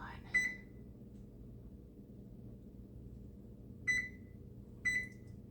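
Three short electronic beeps from a timer sound over a low steady hum, the first alone, the last two a second apart.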